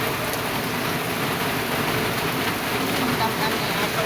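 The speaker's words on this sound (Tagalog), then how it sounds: "Ang lakas ng ulan." Heavy rain pours in a dense, continuous broadband hiss, loud and close, steady throughout with no clear speech over it.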